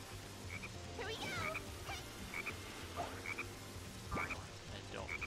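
Frog croaks in Sonic Heroes: short, bright calls repeat every second or so at moderate loudness over a busy, steady game background of music and effects.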